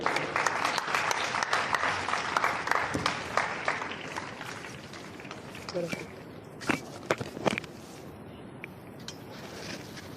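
Audience applause at a school speech event breaks out for a student speaker, dense at first and then thinning into scattered claps with a few louder individual claps near the end.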